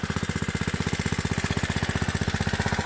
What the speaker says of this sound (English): If y'all guys are wondering what kind of pump I use,